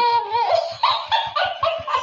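A dog whines and yips in quick, high, excited bursts with a rhythmic low thumping underneath, close and moderately loud, with no speech.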